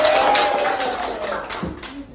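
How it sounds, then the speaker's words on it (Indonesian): A few quick hand claps from a small classroom group during a collaborative presentation session, short and uneven with a tonal note ringing underneath before trailing off. "Oke, tepuk tangan dulu"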